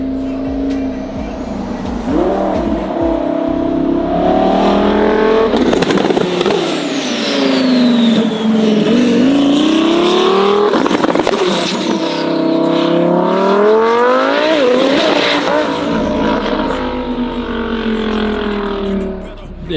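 A Lamborghini fitted with a turbo and a chassis-mounted wing revs hard and close, its engine climbing and falling through several loud sweeps with crackling exhaust pops, while people talk over it.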